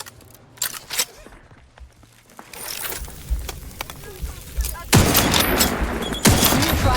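Gunfire in The Outer Worlds 2, with scattered shots early on, then heavy bursts of rapid fire that swell loudly partway through and return after a short break.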